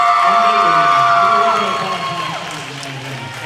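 A crowd cheers and shouts at the finish of a high school swim race at an indoor pool meet, Peters Township at Gateway. The roar is loud at first, then fades over a few seconds, with a voice talking over it.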